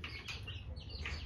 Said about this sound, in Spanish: fíjense qué bonitos están los pollitos